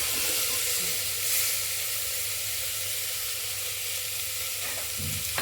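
Black-eyed peas with a pinch of asafoetida frying in a pan give a steady, close sizzle that holds evenly throughout, with no voices over it.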